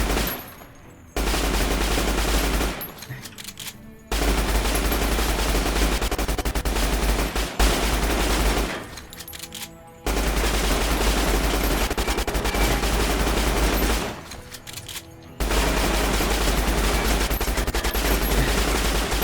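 Sustained bursts of automatic gunfire from a gun in Fallout New Vegas, loud and close, firing in long continuous volleys broken by several brief pauses.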